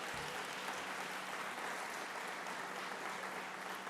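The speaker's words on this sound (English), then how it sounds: "please give him a big round of applause" Applause at a government event on clean transportation projects, a steady wash of clapping from a gathered audience, fairly faint and distant, lasting the full few seconds.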